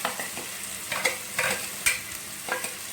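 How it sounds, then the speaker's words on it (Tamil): Shallot paste and chilli powder are sautéed in a pan for a mushroom biryani, with a soft sizzle under repeated scraping stirs of a spoon, close and moderately quiet. "எல்லாம் போட்டு நல்லா வணக்கிக்கலாம்."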